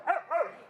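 An American Bulldog barks at another dog, two quick, close, sharp barks in rapid succession, fairly loud and clear.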